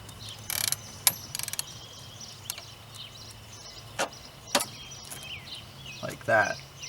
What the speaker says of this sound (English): Now this arm has a 13mm bolt on the other end back there that we're going to loosen so that we can pivot the arm up.